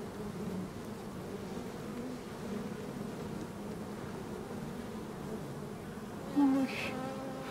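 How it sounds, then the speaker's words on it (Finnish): A newly emerging bee buzzes steadily and close by for the whole stretch, a continuous low insect drone with no voices, joined by a short brighter rise near the end. "Täällä syntyy mehiläinen."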